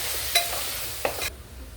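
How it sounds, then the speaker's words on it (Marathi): Spices and salt sautéed in hot oil, a continuous close sizzle with occasional scraping stirs and soft clinks from a spoon, with no talking. "हे छान आपण एकजीव असं करून घेऊया। तेलात चांगलं परतून घेऊया।"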